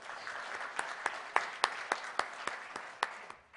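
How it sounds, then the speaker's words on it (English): Sparse applause from a small audience at a talk, a handful of distinct claps ringing out in an uneven rhythm over a low background hiss, with no voices. "Can I get a round of applause for that, at least?"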